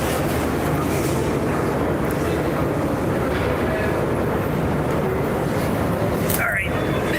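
Montreal metro train running on the rails, a loud continuous rumble with rattling across the whole stretch and a brief higher screech near the end, heard close from inside the station or car.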